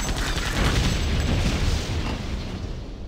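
A loud, sustained blast of booming explosive noise fills the clip, fading slightly toward the end, like heavy weapon fire striking robots in the game Septerra Core.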